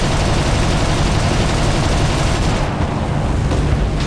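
In the War Thunder tank battle game, bomber explosions produce a dense, loud, continuous roar of blasts and rumble that fills the whole moment.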